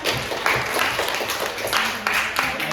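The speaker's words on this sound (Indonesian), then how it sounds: "Tepuk tangan dulu buat temannya." Classroom applause for a classmate during a micro-teaching lesson, a small group of students clapping unevenly in bursts at moderate volume, with brief voices mixed in.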